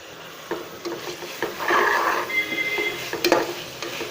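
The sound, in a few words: mint and coriander being sautéed in a pan for biryani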